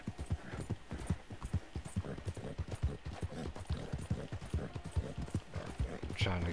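Horse hooves clip-clop in a Nintendo video game, a steady, rhythmic run of close, crisp hoof beats carrying on throughout.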